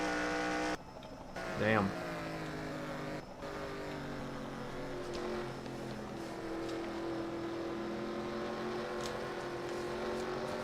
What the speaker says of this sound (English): Dave Marcus throttling up.